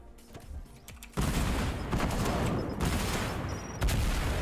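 Rapid game explosions from rockets in Fortnite's Sticky Dodge Ball mode: a sudden loud burst hits at about one second, then a dense rumbling barrage of blasts continues with another surge near the end.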